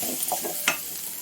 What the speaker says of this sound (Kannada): ಸ್ವಲ್ಪ ಕರಿಬೇವು ಇದನ್ನು ಹಾಕ್ಕೊಂಡು ಫ್ರೈ ಮಾಡ್ಕೊಳ್ಳೋಣ.